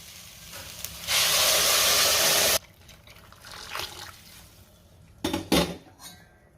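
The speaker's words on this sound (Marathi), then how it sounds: "आता आपल्याला ह्यामध्ये पाणी घालायचंय" Hot water poured into a pot of sautéed rice and moong dal for khichdi, a loud rushing splash lasting about a second and a half, followed by scattered clinks and scrapes of a utensil against the pot.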